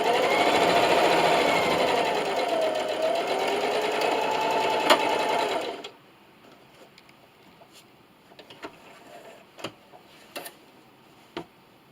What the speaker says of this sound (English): I'm just going to sew right up to that pin and backstitch